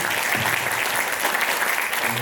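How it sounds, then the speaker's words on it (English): An audience at a semiconductor-themed EU-Vietnam panel event in Ho Chi Minh City gives the speakers a round of applause, dense and steady clapping that fills the room from start to end. "Please give a round of applause to our speakers."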